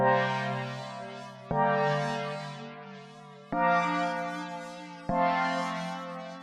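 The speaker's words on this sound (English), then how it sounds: "first I've programmed in a pretty simple chord progression" An Elektron Digitone synthesizer plays four sustained chords in a slow, simple progression, each struck cleanly and left to fade before the next, with no voices.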